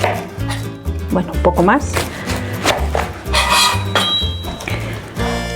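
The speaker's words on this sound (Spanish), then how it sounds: "Le quitamos la otra parte de la piña, la parte de abajo." A knife cuts the bottom off a pineapple on a board, giving a run of close, crisp chopping thuds and scraping cuts, with a brief bit of talk among them.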